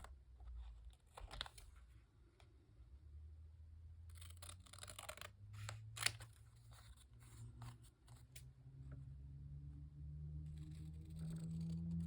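Scissors snip around a paper piece at a crafting table, a few quiet clustered cuts and rustles spread over a low background hum.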